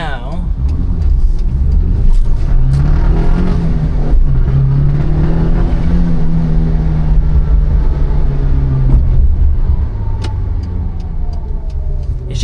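A Daihatsu Move with aftermarket exhaust, blow-off valve and intake accelerating hard, its engine droning steadily and rising in pitch under loud road and wind noise, heard from inside the cabin.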